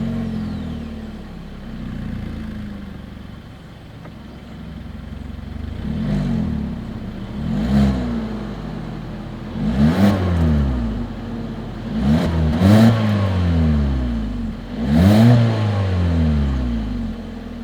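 Single-exhaust engine of a 2021 Hyundai Kona revved in several short bursts, each rising and falling back, fairly close with idle between blips and no talk.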